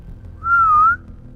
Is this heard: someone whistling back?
yes